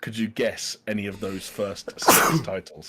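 A single sharp sneeze bursts out in the middle of a studio talk-show conversation about Xbox games, with voices talking just before and after it.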